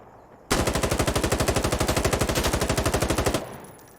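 A gunship's automatic cannon fire in the video game Insurgency Sandstorm: a loud, rapid, evenly spaced burst of about three seconds that stops abruptly, with a brief trailing echo.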